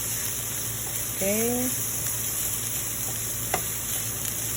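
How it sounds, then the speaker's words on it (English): Ingredients sautéing in a pan for breakfast cups, giving a steady, low frying hiss throughout, with a short spoken word partway through and a faint tap near the end. "So we're just going to saute this and until it's lightly brown."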